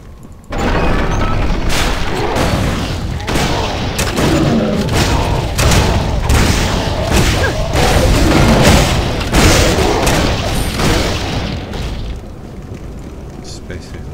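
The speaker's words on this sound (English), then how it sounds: "It's basically like the other cannons." Cannon fire in a game, with loud, heavy booms arriving rapidly in a dense barrage over a rumbling roar for about eleven seconds before fading off.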